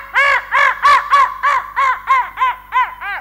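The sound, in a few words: crow cawing, imitated by storyteller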